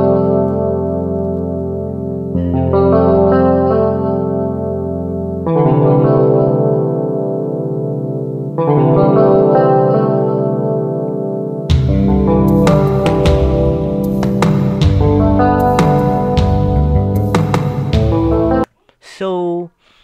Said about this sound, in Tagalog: ito po yung original na instrumental na dinownload ko sa YouTube